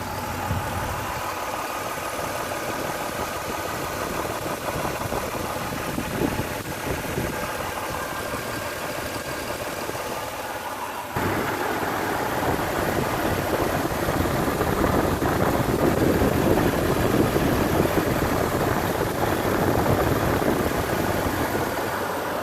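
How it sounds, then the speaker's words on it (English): A 1997 Toyota 4Runner engine idles on old oil with a low, even rumble and faint ticking, growing slightly louder partway through; no voices. "This is what the engine sounds like."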